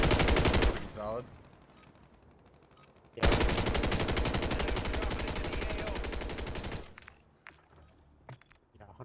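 An eradicator MMG machine gun fires in a zombies video game: a short burst, a pause, then a long rapid continuous stream of loud close shots before it stops, followed by faint clicks.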